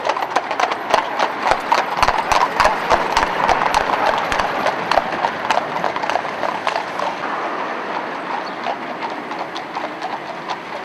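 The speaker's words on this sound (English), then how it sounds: "These horses have been out on the roads and lanes for the last few months" Hooves clip-clop rhythmically on a hard road, sharp repeated strikes at a steady walking pace, gradually growing fainter toward the end.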